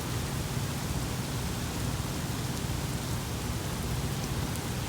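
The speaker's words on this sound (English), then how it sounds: "This storm woke me up." Steady heavy rain pours down during a nighttime thunderstorm in Advance, North Carolina, a dense unbroken hiss with no distinct thunder clap, close and constant throughout.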